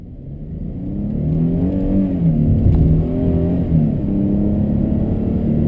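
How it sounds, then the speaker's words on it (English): A 2012–2014 Hyundai Genesis accelerates hard on a freeway, its engine note climbing steadily under a loud, constant road and wind roar heard from inside the cabin. "I'm going to start acceleration into a new one. Step on it again."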